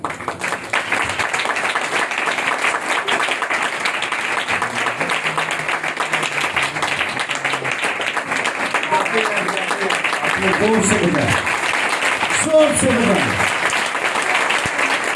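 Sustained applause from a church congregation fills the whole stretch, steady and dense, with a voice briefly calling out over it near the end.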